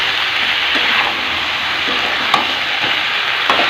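Chicken frying with green chilli and tomato hisses in a steady, loud sizzle while a spatula stirs it, adding a few soft scrapes against the pan.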